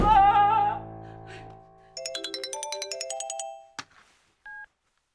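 A melodic mobile ringtone plays in a Cantonese TV drama scene, a repeating chiming tune ringing for a couple of seconds after loud voices fade, then a brief electronic beep.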